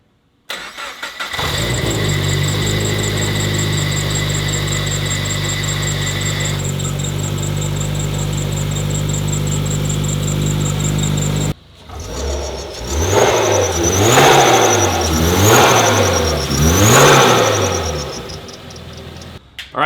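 Toyota 86 fitted with an HKS supercharger kit, running on a dyno: a loud sustained engine drone with a high supercharger whine, then a break into repeated revving sweeps rising and falling, close and alone with no talking.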